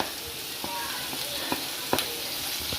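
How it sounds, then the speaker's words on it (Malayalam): Tomatoes frying in a pan for paneer butter masala, a steady close sizzle with a few sharp stirring clicks and pops scattered through it. "എന്നിട്ട് അതെല്ലാം കൂട്ടി പൊരിക്കണം."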